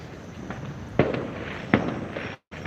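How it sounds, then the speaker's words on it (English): Fireworks burst at night over Buenos Aires, two sharp distant bangs about a second apart against a steady background hum of the city, with no voices. "That's fireworks."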